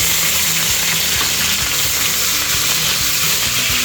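Small pineapple pieces fry in ghee for pineapple kesari, giving a loud, steady sizzle that runs unbroken from start to finish with no voices.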